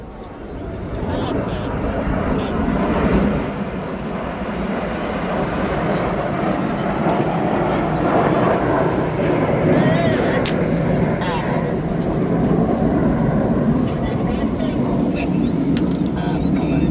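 Red Arrows jets flying a display over Blackpool, a broad continuous roar of jet engines that swells and holds steadily, with a commentator talking over it.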